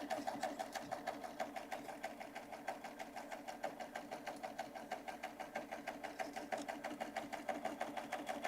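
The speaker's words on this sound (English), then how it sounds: "I'm just going to sew on the borders" A sewing machine stitches borders onto a Christmas table runner with a fast, even, rhythmic clatter that runs steadily throughout at moderate loudness, with no talking.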